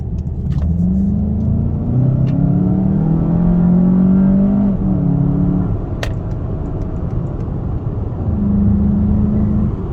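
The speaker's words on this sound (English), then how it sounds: "Good induction noise." A 2019 VW GLI's engine intake roars as it revs up and eases off several times, deep and close, with a sharp click partway through.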